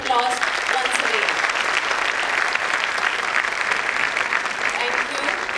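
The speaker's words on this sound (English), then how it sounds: "I'd like to request you to give them a huge round of applause once again." A large audience gives a big round of applause at a school annual concert after a performance by little ones, loud dense clapping that holds steady from start to finish.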